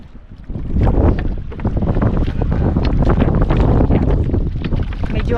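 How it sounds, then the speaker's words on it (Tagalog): Strong northeast monsoon wind roars steadily across the microphone aboard a net-fishing boat at sea off Binudak, Palawan. The gusty rumble is loud and continuous, with faint splashes and knocks mixed in. "Medyo malakas na yung amihan mga ka-idol, pero tuloy lang."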